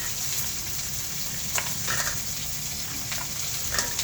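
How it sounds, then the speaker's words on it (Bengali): Chopped vegetables, eggplant and potato among them, fry in a hot wok with a continuous dense sizzle and a few faint scrapes of stirring. "এই সবজিগুলো এবার কড়াইতে দিয়ে দিচ্ছি। হ্যাঁ, কড়াইতে দিয়ে নাড়াচাড়া করে নিলাম।"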